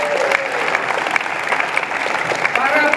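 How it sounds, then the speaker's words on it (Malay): An audience at the opening of the UPSI Leaders Colloquium 2023 claps steadily for three seconds, a dense, even patter of many hands with a voice talking over it. "kita berikan tepukan gemuruh"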